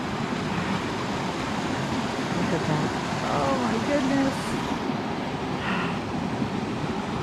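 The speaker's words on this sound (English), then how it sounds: "The water is so pretty. I love listening to it." A creek in Sequoia National Park, near Panther Gap, rushes in a constant loud hiss of flowing water while someone speaks briefly over it.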